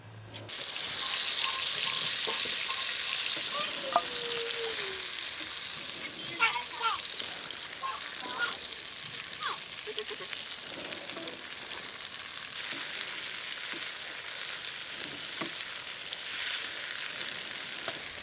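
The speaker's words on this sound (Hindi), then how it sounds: "तो अपनी वेजिस फ्राई करते हैं सबसे पहले बटर डाल के" Vegetables fry in melting butter in a pan at a snowy winter campsite in India, a steady close sizzle with occasional clinks and scrapes of stirring throughout.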